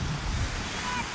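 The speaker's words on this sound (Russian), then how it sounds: "Бля, какие волны белые, красивые." White-capped sea waves break on a summer beach, a continuous broad wash of surf mixed with gusty wind noise on the microphone, steady and fairly close.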